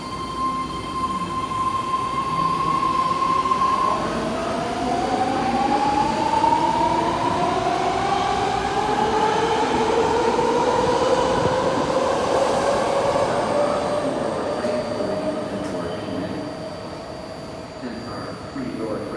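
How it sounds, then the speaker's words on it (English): A ten-car, three-door Fleet of the Future BART Blue Line train to Daly City rolls into Powell Street underground station. A steady, loud rumble carries rising and falling wheel squeal, with a faint announcement voice in the background. "Now moving in. Powell Street. This is the Blue Line train to Daly City."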